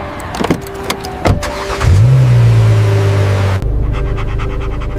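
Car sound effect in a spoken story: a few clicks and a door thud, then an engine starts and settles into a steady hum nearby, loud and alone without talk.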